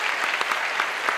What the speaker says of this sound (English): Let's have a little applause for these